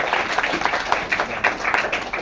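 A small audience at a Kannada quiz programme in a coaching centre claps for a student participant. The brief, brisk patter of hand claps rises and dips over a couple of seconds.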